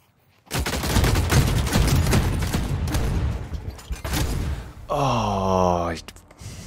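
Bursts of gunfire in the video game The Cycle: Frontier crackle loudly at close range, followed by a rising electronic whine near the end.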